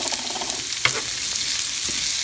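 Potatoes and onions sauté in a frying pan for filo pastry snacks, giving a steady close sizzle with a couple of short stirring scrapes.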